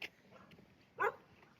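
A puppy lets out a soft whimper, then one short, sharp yip a second later, both fairly quiet and close, with faint room noise around them.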